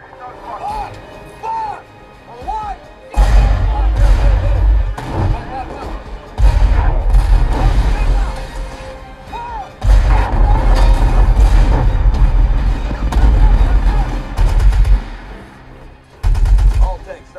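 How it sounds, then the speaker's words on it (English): Tank gun shots from the film Fury played through a Bowers and Wilkins DB3D subwoofer, with loud deep booming blasts and rumbling low-end impacts repeating in heavy bursts beneath movie dialogue and battle noise. "Next, I popped in Fury for that instant pop and go from those tank shots."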